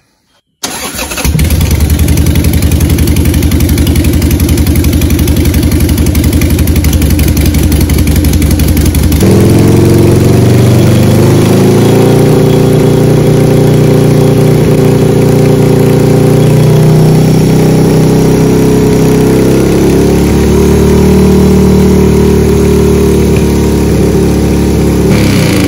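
A 2000 Harley-Davidson Sportster fitted with a new single-fire Ultima ignition fires up and settles into a loud, steady, lumpy idle, its rumble deepening slightly partway through and holding close and constant.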